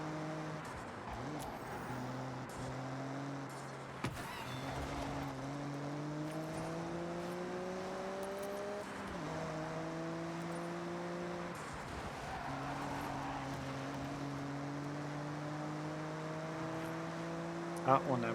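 A car driving in Forza Horizon 6 holds a steady engine drone that climbs in pitch through repeated gear shifts, with brief tire noise, continuous and fairly close.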